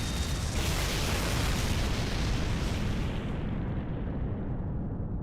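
A loud, sustained explosion in a Fate video game roars as a dense, full-bodied rumble that fills the space, holding steady before its upper hiss fades toward the end.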